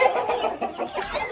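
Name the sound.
chickens clucking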